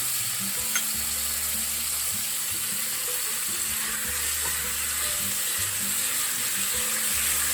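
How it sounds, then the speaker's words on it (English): Ground beef fries in a pan while it is broken into smaller pieces for a quick chili, a steady low sizzle with faint scraping, fairly quiet and with no talking. "you're just breaking up the ground beef into smaller pieces"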